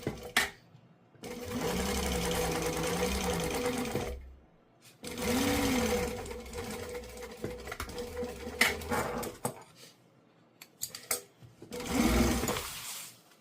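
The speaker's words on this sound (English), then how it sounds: "So I sew it right now" A sewing machine stitching a quarter-inch seam on a bag lining, running in three bursts of a few seconds each with quiet gaps, close by, with a dog faintly whimpering in between.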